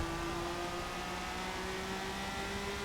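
A stock car engine in the racing video game Forza 7 drones steadily at high revs, a continuous buzzing roar with no pause throughout.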